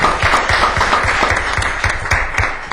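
A crowd applauding steadily at a zoning ordinance meeting, dense overlapping claps filling the room at close range for the whole stretch.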